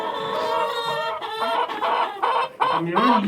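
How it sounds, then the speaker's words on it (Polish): A hen clucks repeatedly in a series of rapid, loud, nasal calls close by, with a brief dip before the clucking resumes and rises again. "No właśnie tam siedzi kura znów chyba."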